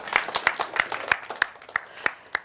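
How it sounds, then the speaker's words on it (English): Scattered applause for community award honourees at a plaque reveal, a small group clapping with sharp, distinct claps in an uneven rhythm, close and moderately loud. "you can give them all a round of applause"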